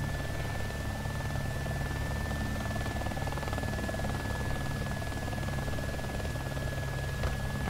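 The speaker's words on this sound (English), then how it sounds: "That evac chopper, though." An evac helicopter in the DayZ video game drones steadily at a distance, a low constant rotor hum with no voices over it.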